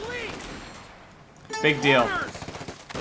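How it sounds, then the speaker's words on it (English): Rifle fire from riflemen in a World War II real-time strategy game: sharp shots popping intermittently under a commentator's lively talk, a brief quiet gap before a burst of speech and firing. "these riflemen are taking really good pot shots at the Obersoldaten"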